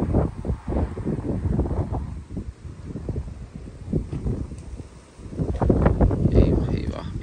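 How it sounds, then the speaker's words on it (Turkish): Gusty wind from a night storm buffets the microphone in rumbling bursts, loud and close, with speech-like sounds under the roar. "Çok rüzgar var."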